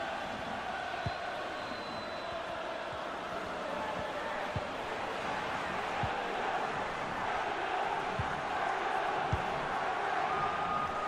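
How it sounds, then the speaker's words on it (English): Steady roar of a stadium crowd during a Sevilla versus USWNT friendly match in the FC 24 video game, a continuous dense wash of cheering with a few faint thumps. "the crowd are doing their bit"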